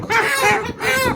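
Sixty-day-old chickens on a poultry farm on vaccination day, loud close clucking and a strained crowing call, two drawn-out squawking bursts with a short pause between.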